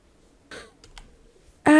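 A computer mouse clicks on a Twitch page, two or three quiet, sharp clicks spaced apart, followed by a louder tonal burst at the end.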